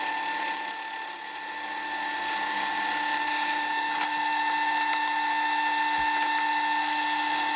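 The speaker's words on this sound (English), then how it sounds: "It's time to drill the holes for the battery holder fully through." A power drill with a spade bit whines at a steady high pitch as it bores continuously through wood, with a faint grinding undertone and a brief knock partway through.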